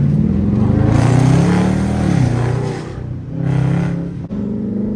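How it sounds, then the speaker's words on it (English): Several hoodless Dodge Charger Scat Pack cars rev nearby, their engines rising and falling in throaty swells over a continuous rumble, with a short drop in the middle. "POV drive with a whole bunch of scat packs with no fucking hoods."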